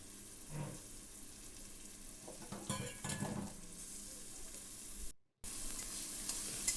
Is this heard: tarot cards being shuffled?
no